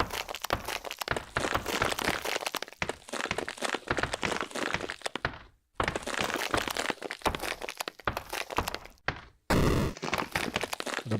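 Rocks shattering in the mining game Fracture Field: dense, loud crunching and cracking bursts of breaking stone, repeated in quick clusters with brief silent gaps and a sharp final blast.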